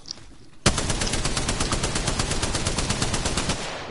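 Sustained automatic fire in a PS4 shooter, a loud, unbroken stream of rapid, evenly spaced shots that starts abruptly and carries on for about three seconds with no voices.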